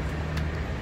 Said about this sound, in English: cars zooming by and making a lot of noise